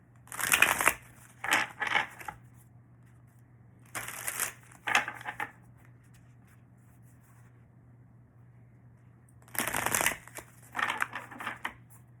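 Tarot cards are shuffled in three short bursts of crisp riffling and rustling, with quiet gaps and a low steady hum between them.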